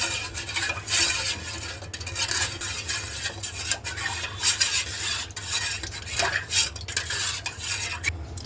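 Watermelon ice cream mixture with cornflour and sugar is stirred steadily in a pot, giving continuous close scraping and clinking of a utensil with no pauses.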